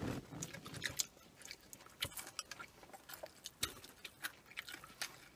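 Deep-fried battered squid rings being chewed close up, soft crunchy bites and wet mastication repeating irregularly over several seconds, with faint murmured sounds and no clear speech.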